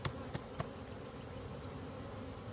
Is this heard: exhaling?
no